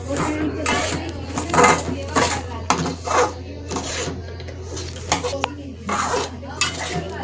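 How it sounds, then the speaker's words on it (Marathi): A utensil scrapes and stirs moong dal roasting in ghee in a pan, with repeated close scraping strokes at an uneven rhythm under a steady background hum. "मग व्यवस्थित तुपामध्ये चांगला भाजून परतून घ्यायचा"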